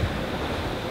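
Ocean waves break in darkness around a sailing boat on an Atlantic crossing, a steady broadband wash of surf and wind noise, close and continuous with no voices.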